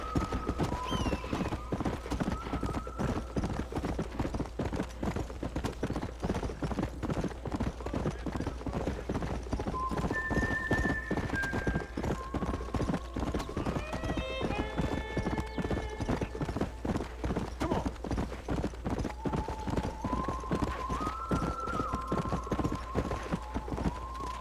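A horse ridden at a steady pace in Red Dead Redemption 2, its hooves clip-clopping in an even, continuous rhythm close by, over a soft bed of game music and ambience, with a brief neigh partway through.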